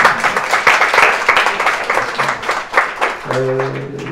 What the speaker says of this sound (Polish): nagródźmy ich oklaskami.